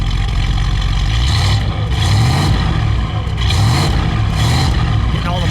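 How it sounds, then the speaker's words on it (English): A 1958 Buick Special convertible with a single exhaust, its engine idling and revving in steady low rumbling surges that swell and ease over several seconds, close and loud throughout. "Steve, give it a rev"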